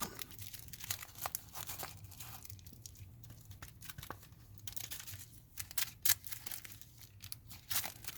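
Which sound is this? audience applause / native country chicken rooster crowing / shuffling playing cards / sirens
shuffling playing cards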